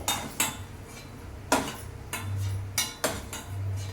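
Metal utensils clink and clatter against a pan while fried pieces are lifted out of hot ghee, giving several sharp irregular strikes over a low steady background hum.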